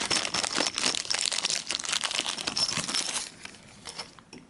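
Plastic packaging for RC car parts is pulled open, loud close crinkling and crackling for about three seconds, then a few softer rustles.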